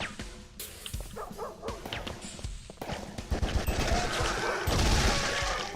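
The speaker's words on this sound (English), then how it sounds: "And I'm hearing dogs barking." Dogs bark in the Darkenstein 3D video game, a run of sharp yelps mixed with gunfire and busy game sounds that grow louder and denser toward the end.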